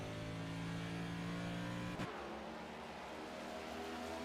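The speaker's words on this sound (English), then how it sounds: "You can hear it in the engine, or the lack thereof when you get to the corners." A Cup Series race car at Iowa Speedway, nearly out of fuel before a pit stop, drones steadily and loudly until its engine note abruptly cuts out, leaving a lower, rougher rumble.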